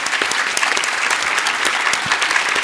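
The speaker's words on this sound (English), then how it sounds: "let's just give them a round of applause for that" Conference audience applause, a brief, dense, steady burst of many hands clapping at moderate loudness, with no speech over it.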